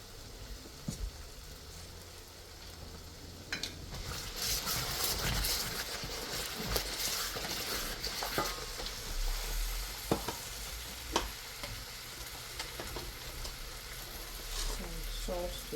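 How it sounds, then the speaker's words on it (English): Continuous loud sizzle and crackle of Nigerian jollof rice frying in a pot with chicken broth, intensifying partway through, with intermittent sharp utensil taps and scrapes as it's stirred. "So fry for another 10 minutes."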